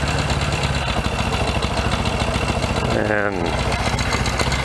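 A 1964 Royal Enfield Interceptor Mk1 motorcycle engine idling up close, with a steady, even chug and a brief spoken word over it.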